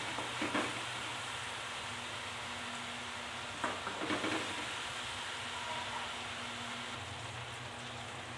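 Ingredients for Bicolano laing sautéing in a pan, a steady close sizzle with faint stirring taps and a couple of brief scraping bursts, no voices.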